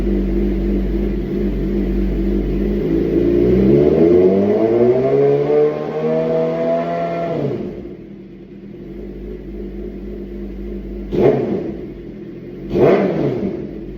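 A Suzuki motorcycle engine revs up to a loud, rising whine, holds there, then drops back to a rumbling idle. Two short blips of the throttle follow close by.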